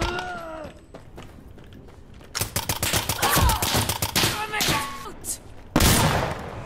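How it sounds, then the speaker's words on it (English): Gunfire in the video game Insurgency: Sandstorm, with dense rapid shots in loud bursts and cracking reports, mixed with a voice at the start and other game sounds. "I only use the gun because it sounds awesome."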